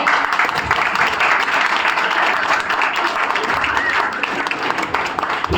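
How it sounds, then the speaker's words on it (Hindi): Audience at a national theatre festival giving loud, sustained applause for a young performer, a thick continuous roar of clapping with crowd murmur mixed in. "इसके लिए एक बार जोरदार तालियां"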